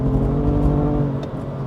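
BMW M2 Competition (F87) on a night rally road, its engine roaring loud and steady while the worn-out tires spin, the tone dipping briefly before holding at high revs.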